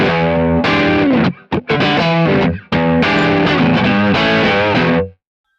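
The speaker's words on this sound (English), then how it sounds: "So these reverb sounds." Distorted electric guitar played through a Kemper Profiler with reverb: loud sustained chords and bends in phrases with brief gaps, ending on a ringing tail, no talk.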